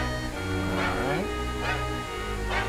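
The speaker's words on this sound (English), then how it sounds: "Gotta love the dog barking MIDI effect." A dog-bark MIDI sound effect from the Bubsy 3D video game repeats in three short, evenly spaced synthetic barks over looping game music.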